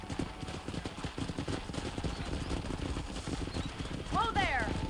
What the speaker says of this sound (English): Control that horse, will ya?